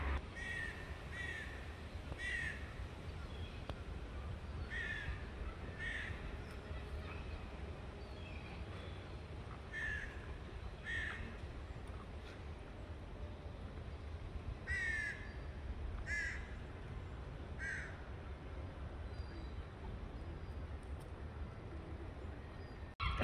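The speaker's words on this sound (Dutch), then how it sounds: "Zoals jullie horen zijn er allemaal meeuwen aan het blaren." Young and adult gulls cry together, with repeated harsh calls in short bursts scattered over a long stretch above a steady outdoor rumble, moderately distant.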